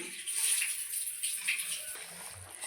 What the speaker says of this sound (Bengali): এখন আমি জল দিয়ে দেব দেখুন বন্ধুরা আমি জল দিয়ে দিয়েছি